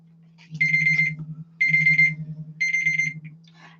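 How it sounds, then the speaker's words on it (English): A phone alarm goes off with three loud, evenly spaced beeping bursts, each about a second long, over a steady low hum in an indoor craft workspace. "That's my alarm for getting up to go live in about an hour."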